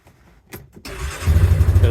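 An ATV engine cranks briefly after a few quiet clicks, then catches and settles into a loud, close, rumbling idle.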